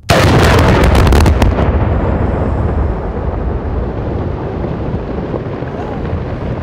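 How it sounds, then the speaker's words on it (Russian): Blasting of river ice on the Tom River before the spring breakup: a loud, broad explosion bursts at the start, then a long rumbling roar of debris and echo slowly fades, with no speech. "Взрывают лед специалисты ГО и ЧС каждую весну перед вскрытием реки."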